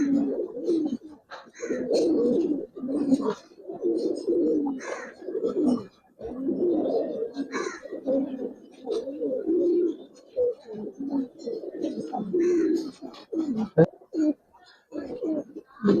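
Giribaz pigeons coo in a loft, soft rolling calls repeating close by in uneven bursts throughout, with people talking among them.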